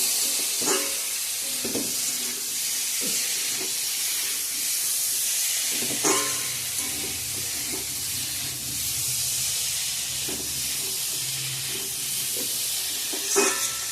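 Hot water goes into fried masala for an egg curry with potato and cauliflower, giving a steady hiss and sizzle with scattered stirring clicks and bumps in a home kitchen.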